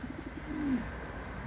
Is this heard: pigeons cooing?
yes